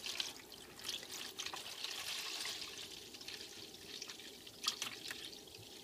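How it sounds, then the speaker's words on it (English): White vinegar poured into a container for a rust-removal soak, heard as a faint, soft continuous trickle of liquid with a few small splashy drips, quiet and without speech. "We're adding white vinegar to this one."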